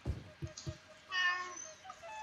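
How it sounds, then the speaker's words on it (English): A pet cat meows indoors, a few short low calls followed by a longer, brighter drawn-out meow, faint and fairly close, heard alone without talk. "but that was my cat."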